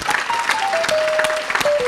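Church congregation applauding throughout, a steady dense clapping with a sustained tone held above it, fairly close and loud.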